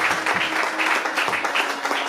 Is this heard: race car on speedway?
no